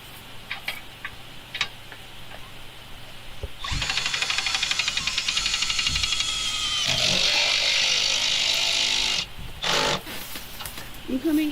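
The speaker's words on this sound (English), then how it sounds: "I'll pull the trigger, and you'll hear the clutch." A Milwaukee drill's clutch slips during a Maslow 4 CNC build in a workshop. It gives a fast, steady ratcheting click for about five seconds, loud and close, then the tone changes briefly before it stops.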